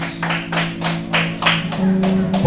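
Church congregation clapping together in a Brazilian Portuguese service, a series of loud rhythmic claps in unison against a sustained low hum.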